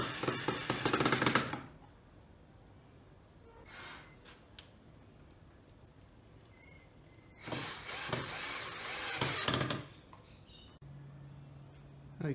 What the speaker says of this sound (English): I will screw those into place now